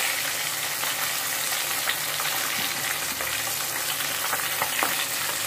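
Shorputi fish fry in hot oil in a pan, giving a steady, close, hissing sizzle with small popping crackles throughout and no voices.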